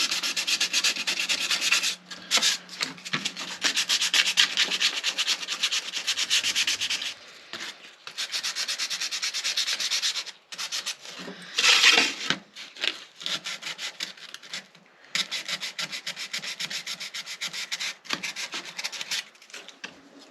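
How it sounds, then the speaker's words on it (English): Sandpaper rubbing off glue from the braces inside a concert ukulele body, steady scratchy back-and-forth strokes in bursts with short pauses, close and alone. "I'm going to sand off any glue."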